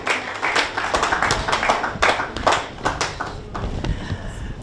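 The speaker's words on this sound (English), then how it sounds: "Let's give a round of applause for Thomas Mason." Audience applause at a race course for a racehorse trainer: dense, steady clapping from a crowd that carries on for the whole stretch with a few louder bursts.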